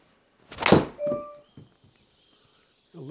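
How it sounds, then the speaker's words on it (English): A golf tee shot struck with a driver on a course: one sharp, loud thunk of club on ball, followed by a brief ringing tail and faint outdoor birdsong. "We are going to hit driver again because we mostly do that"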